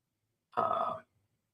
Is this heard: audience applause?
no